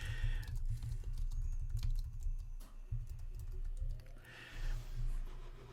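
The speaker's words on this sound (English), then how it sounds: "you can certainly type them in here." Typing on a computer keyboard while listing an item on eBay, a quiet run of quick, irregular key clicks with a brief pause midway, close and alone.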